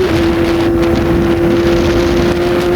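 A Kawasaki Ninja ZX-25R engine screams at a sustained high pitch near 17,000 RPM, loud and close with wind noise, no talk.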